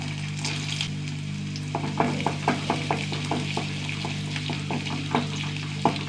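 Chana dal frying in a little hot oil, a steady crackling sizzle with a low hum beneath and a series of soft scraping stirs across the pan.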